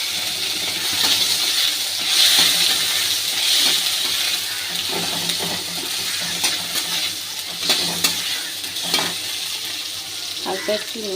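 Tomato frying in a pan while being stirred, a loud steady sizzle with intermittent scraping and clacking strokes of a utensil near the end, no talking.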